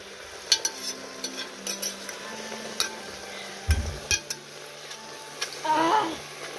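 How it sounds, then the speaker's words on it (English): Marinade is stirred in a pot, with a spoon scraping and knocking against the sides in short irregular strokes over a faint low sizzle, close by. "Into the pot it goes with this marinade. Now give it a stir."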